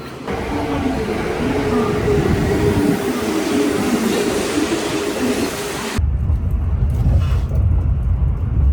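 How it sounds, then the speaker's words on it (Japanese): A Kintetsu limited express train at Nagoya Station makes a loud, steady rail rumble that continues throughout, with the sound shifting abruptly near the end. "11時47分発名古屋駅の近鉄特急乗ります。"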